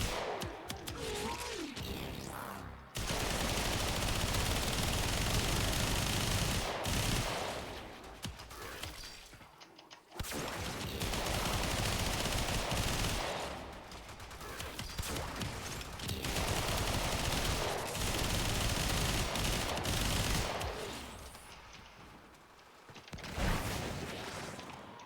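Gunfire from Mesa in a video game, bursts of rapid shots and impacts in long loud stretches broken by brief pauses, no talking.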